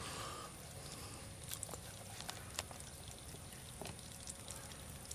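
Water draining from a valve at a cottage being winterized, a faint continuous trickle and pour with a few soft knocks and clicks over a steady low hiss.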